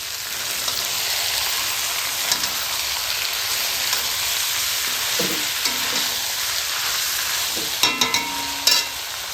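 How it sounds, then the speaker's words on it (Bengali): Mutton pieces frying slowly over low heat with no added water, a steady soft sizzle running throughout, with a few louder stirring scrapes and clicks near the end. "বিনা জলে আমরা ভালোভাবে আস্তে, মানে হালকা আঁচে কষে নেব।"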